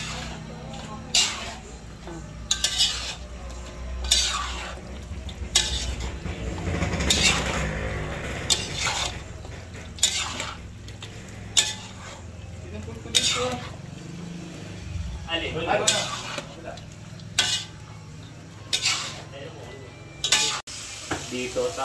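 Leftover lechon cooks in a pan, sizzling steadily while a utensil scrapes and clinks against the metal at irregular intervals, with people talking over the frying.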